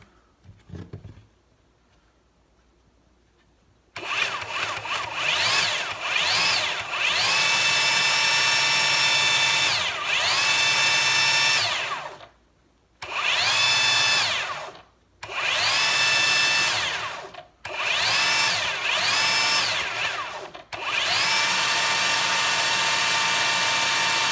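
A Ryobi 18V One+ brushless cordless belt sander runs with a loud, high-pitched whine in long bursts, cutting out briefly several times before spinning back up.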